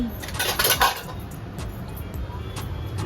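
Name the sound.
ground spice paste being added to a cooking pot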